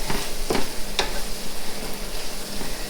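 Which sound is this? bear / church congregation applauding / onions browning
onions browning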